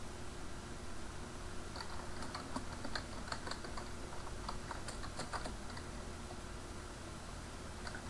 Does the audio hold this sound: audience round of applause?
no